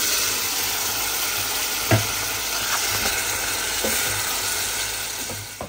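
Fried eggs are added to a sizzling spice masala and stirred, a loud continuous frying hiss close up, marked by irregular spoon scrapes and knocks against the pan.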